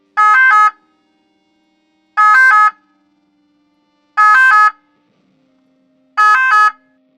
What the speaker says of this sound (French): les véhicules d'intérêt général qui bénéficient de facilités de passage ont une sirène